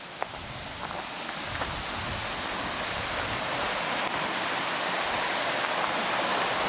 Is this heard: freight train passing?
no